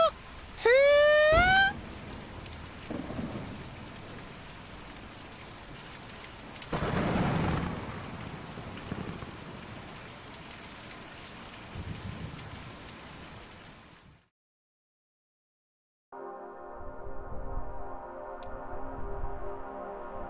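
Steady rain with rumbling thunder in the Kentucky Route Zero video game, a continuous wash of falling rain with a few louder thunder swells. A short silence follows, then a tonal hum returns with the rain.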